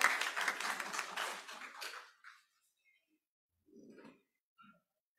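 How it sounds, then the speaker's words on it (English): A church congregation claps in a brief, fairly close burst lasting about two seconds, then stops abruptly, leaving near silence broken by a few faint scattered sounds. "Yes, you can clap."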